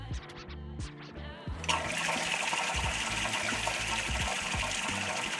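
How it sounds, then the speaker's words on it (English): Water starts running through an ice bath chiller unit to push out air and prime the pump, a sudden steady gushing rush that begins after a few faint knocks and continues evenly. "allow a few minutes for the water to run through the chiller unit, pushing out all the air and priming the pump with water"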